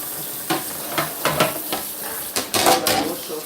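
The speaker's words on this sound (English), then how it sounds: "While I wash off the trays and the pans I use." Trays and pans used for juicing beetroot are washed at a kitchen sink, with a series of close clanks, scrapes and splashing water knocks in an uneven rhythm.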